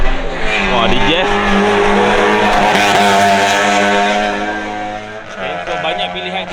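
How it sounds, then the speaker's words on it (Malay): Fast hatchback cars such as a Honda Jazz and a Perodua Myvi-style hatch race along a track, engines droning loudly and continuously with a tire squeal, under steady talk throughout. "hari ni kau boleh tengok kereta semua laju"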